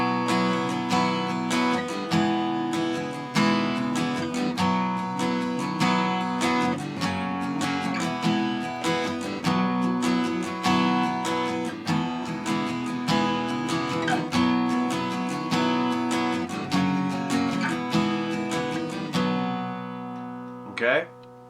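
A guitar strums and picks a chorus, with steady ringing chords in a relaxed rhythm, close and full. A brief sharper accent comes near the end, and there are no voices.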